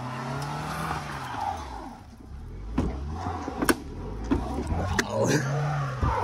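An old beater car driving flat out along a ditch, its engine revving and surging with bumps and knocks from rough ground, heard at moderate distance with some background talk.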